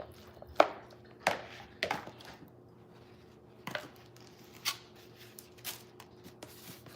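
Spoon or utensil scrapes and taps against a bowl while tuna salad ingredients are stirred together, a series of irregular soft knocks with a faint steady hum beneath.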